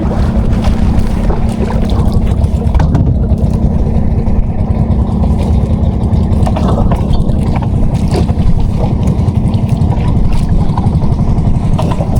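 A small wooden banca boat's engine runs loud and steady near the microphone. Constant mechanical drone is mixed with wind buffeting, and there is no pause or change in pitch.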